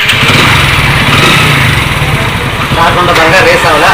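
A small engine runs at a steady, even idle after starting, a loud, close buzzing drone with a slight change in tone partway through.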